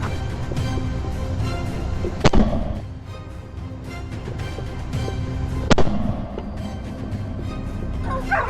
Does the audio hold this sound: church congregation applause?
no